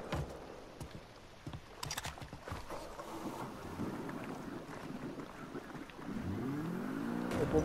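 A motorboat engine in the video game Mafia III hums and drones steadily over wind and rushing water, growing louder toward the end.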